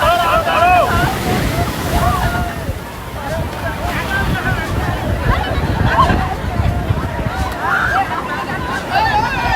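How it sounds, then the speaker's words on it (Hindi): Sea waves wash onto Digha beach, surf rolling in continuously under loud wind buffeting the microphone and a busy babble of beachgoers' voices. "ये समुद्र की लहरें देख"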